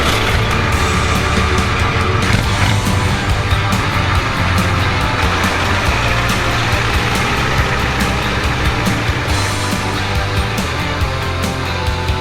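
Pickup truck with new aftermarket wheels pulling out of a car wash beside a tire shop, a loud, close engine rumble and steady road noise continuing throughout without talk.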